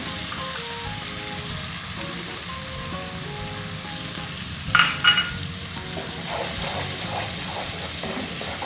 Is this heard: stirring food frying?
yes